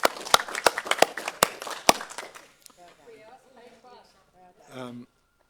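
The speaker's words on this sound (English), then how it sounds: "I think a little round of applause." At a council meeting deliberating a long-term plan, a handful of people clap in a small, sparse round of sharp, distinct claps for about two seconds, then it fades out and a voice starts talking.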